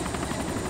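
Steady, loud Mi-17 helicopter rotor and engine drone in a video game, a dense continuous thrum filling the short moment with no talk over it.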